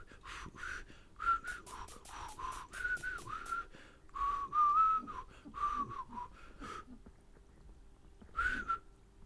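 Someone whistles a broken run of short notes in a video game, breathy and close, with brief pauses between phrases and a gap near the end before a final note.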